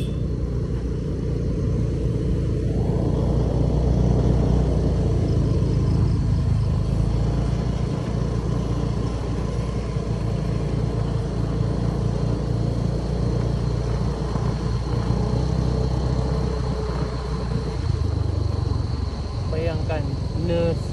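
A boat motor drones steadily on open sea, a continuous low rumble with a faint hum holding for the whole stretch, loud and close.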